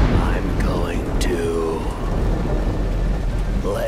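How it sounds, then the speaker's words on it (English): Steady rain in the video game Road 96 hisses throughout, with low rumbling beneath and brief voice-like sounds over it. "It is raining."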